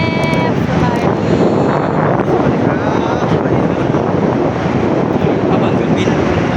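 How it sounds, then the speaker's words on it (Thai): Airplane at a large airport in Thailand, its engine roar steady and loud throughout, mixed with wind buffeting the microphone and people talking nearby. "เบิ่งเครื่องบิน เข้ามาเครื่องบิน"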